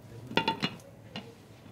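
A metal lid clatters onto a pot of rice pudding, a few quick close clanks followed by a softer final tap, then quiet.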